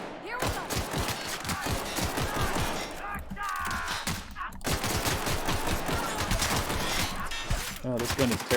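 Gunfire from a weapon in The Outer Worlds, with dense repeated shots and impacts spread through the clip over game effects and background sound, and a voice talking along with it.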